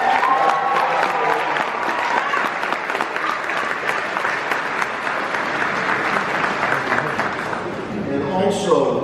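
A graduation ceremony crowd gives a long round of applause and an ovation, steady dense clapping for several seconds with a voice speaking over it near the end.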